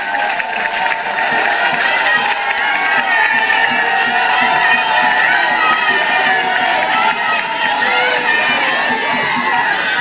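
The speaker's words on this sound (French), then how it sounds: "Je vous prie de l'accompagner avec vos applaudissements" A crowd at a Women's Day show applauds steadily and loudly as a woman walks to the microphone, with cheering voices and a continuous roar of clapping throughout.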